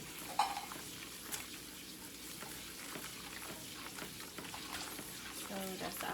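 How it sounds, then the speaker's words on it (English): Flour stirred in a hot pan for smothered oxtails gives off a soft, steady sizzle, with a spoon scraping and clicking now and then close by and faint talk at points. "so you just want to stir it until it turns"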